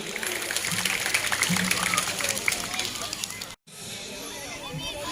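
Applause at the closing ceremony of the Şile municipality summer sports school, crowd clapping mixed with voices and babble, briefly cutting out before resuming more faintly.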